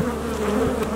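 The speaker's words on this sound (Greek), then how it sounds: "Εδώ είναι που οι μέλισσες μπαίνουν, βγαίνουν." Honeybees buzzing at the entrance of a hive, a dense, steady hum of many insects heard up close and continuous throughout, with no voices.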